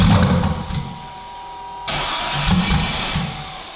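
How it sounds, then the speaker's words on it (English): A car engine cranks and fires up after an exhaust repair, then settles into a steady, loud rumbling idle with a brief rev. "Now let's see how it sounds after fixing the exhaust."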